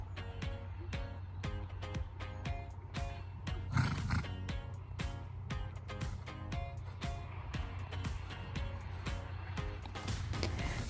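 Horse trotting on a cross-country course, its steady clip-clop hoofbeats repeating evenly throughout, fairly close against light outdoor background noise with no talking.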